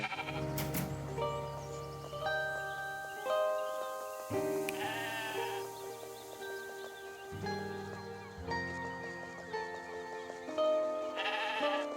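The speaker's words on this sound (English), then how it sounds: "Hello, random sheep." Sheep bleating in the video game Discounty: several wavering bleats over light background game music, moderately loud and close, without talk.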